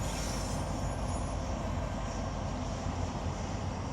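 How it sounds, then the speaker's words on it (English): A train passes near a trail in Texas, giving a steady, loud, broad rumble that holds evenly for the whole stretch with no voices over it. "Let me see if I can take a picture of that train"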